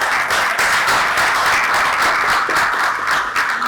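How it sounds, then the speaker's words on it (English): A seated crowd at an aquaculture launching ceremony in Ghana gives a full round of applause welcoming a professor to the podium, a dense, loud, even patter of many hands continuing throughout. "Please, with a round of applause, I welcome Professor Francis Nunu."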